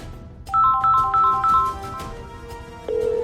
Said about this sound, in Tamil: Bhoomi, Bhoomi, Bhoomi, please pick up the phone.